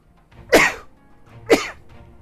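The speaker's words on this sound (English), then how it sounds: "Gotta sneeze, I feel it." Two sharp, explosive sneeze-like bursts about a second apart, each a breathy burst with no speech around them, heard close by during a Final Fantasy XIV play session.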